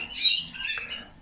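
Harsh squawks and chirpy calls from pigeons in a loft close by, a couple of overlapping cries with a quieter rustle between them.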